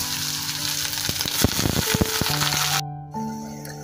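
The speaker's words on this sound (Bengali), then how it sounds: "কড়াইতে সর্ষার তেল দিয়েছি আর এখন পাঁচ ফোড়ন ফোড়ন দেব।" Panch phoron spices crackle and sizzle loudly in hot mustard oil in a wok, with sharp popping bursts over a steady frying hiss and a low hum in the background.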